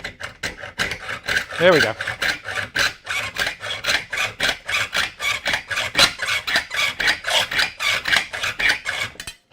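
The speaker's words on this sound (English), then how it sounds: "So going to do the cut with this cheap hacksaw blade." A cheap hacksaw blade cuts through metal in a steady series of loud rasping back-and-forth strokes, with a brief spoken remark partway through.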